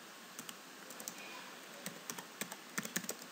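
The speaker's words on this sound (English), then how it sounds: "here you can type your project name" Someone types a project name on a computer keyboard, a quick irregular run of light, close key clicks against a quiet background.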